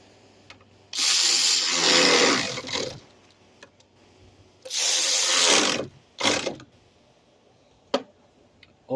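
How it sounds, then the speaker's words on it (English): A ratchet with a 10 mm socket tightening bolts during radiator replacement on a 2003-2005 Lincoln Aviator V8 4.6L, two long bursts of rapid clicking followed by a short burst and a few isolated ticks, close and loud. "Now you get your 10, you go and tighten them down."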